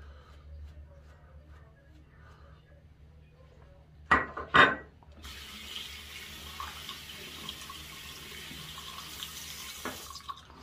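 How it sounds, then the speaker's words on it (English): A wet shaving brush works lather against a face, giving a soft, steady swishing and squelching that runs for several seconds after a couple of sharp knocks, close and fairly quiet. "I added some more water to the brush and just worked it in on the face"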